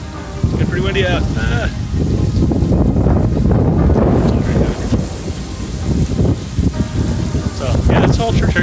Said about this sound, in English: It's getting pretty windy out.